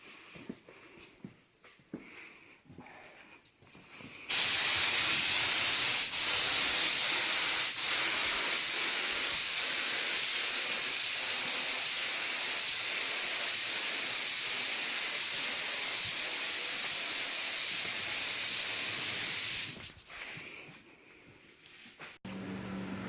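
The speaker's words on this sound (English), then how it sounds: "Flowing that primer out good now." Spray gun spraying primer onto a 1980 Dodge D150 pickup truck: a loud, steady hiss of about fifteen seconds, with quieter handling noises before and after.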